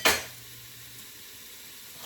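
Garlic hits a pot of hot oil with a brief loud sizzle at the start, then settles into a faint, steady frying hiss while kale and chickpea soup is being made.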